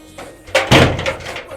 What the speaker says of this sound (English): are you locking the door on me?